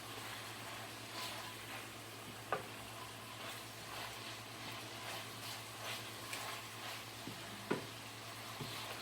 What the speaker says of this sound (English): a little oil is added to fry stuff up